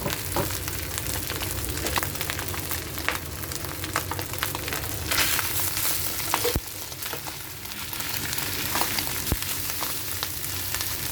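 Rice fries in plenty of oil for home-cooked fried rice, giving a steady, close sizzle and crackle with occasional scrapes and clicks from stirring and no talking.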